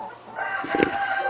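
Chickens on a small village farm in Haman County, South Korea, where about 130 birds are kept, cluck close by as a rooster crows loudly, the crow rising to a peak near the end.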